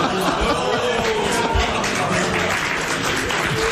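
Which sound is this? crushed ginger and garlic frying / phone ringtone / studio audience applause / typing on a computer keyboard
studio audience applause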